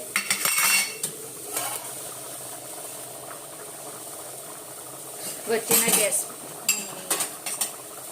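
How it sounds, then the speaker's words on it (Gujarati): A metal pot clanks and scrapes down onto a gas stovetop in two short bursts of clatter, with a low kitchen hiss in between. "પહેલા તો અહીંયા આગળ મેં તપેલી મૂકી દીધી છે"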